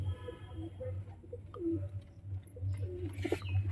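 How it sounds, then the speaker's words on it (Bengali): Domestic pigeons cooing inside a large loft coop of multicolored birds and their chicks, soft repeated coos and scattered chirps over a low steady hum, no talking. "এগুলো সবই খেলা পায়রা।"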